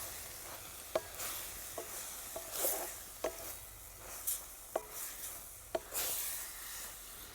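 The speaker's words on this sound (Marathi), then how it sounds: "मसाला सगळा मिक्स करून घ्यायचा आहे" Masala is stirred into a vegetable (an Ayurvedic bhaji) cooking in a pan, making a soft continuous sizzle broken by about eight sharp spoon knocks and scrapes at irregular intervals, close up with no talking.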